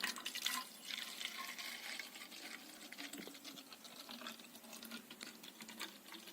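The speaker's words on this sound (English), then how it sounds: "Now we are going to start adding water to this container." Water is poured into a container and splashes faintly and steadily, a soft trickling fill that continues without pause and with no voices.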